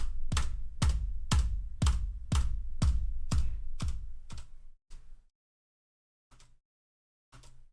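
Computer keys are struck in a quick even run of about ten loud, close taps, then a pause and a few isolated presses, with no voices over them.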